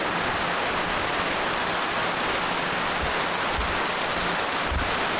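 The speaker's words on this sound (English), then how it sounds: "Yep, it's definitely raining now, but there's just a ton of tree cover." Steady, dense hiss of rain falling on jungle canopy overhead in Gunung Leuser National Park, continuous and even, with a few soft low thumps from heavier drops.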